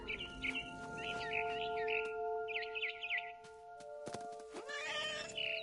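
A cat meows several times in short bursts over a steady electronic hum and tones, with bird-like chirps near the end, in the video game What Remains of Edith Finch.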